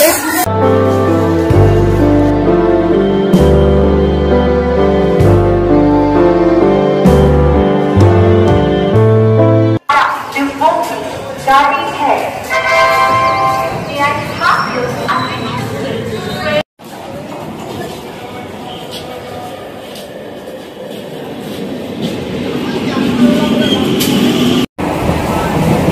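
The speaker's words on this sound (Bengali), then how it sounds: "তো এখানে এখন স্টেশনে ওয়েট করছি" Busy railway station platform while waiting for a train to Sealdah, with crowd chatter and passing vehicle rumble mixed under loud background music and song that dominates the opening stretch.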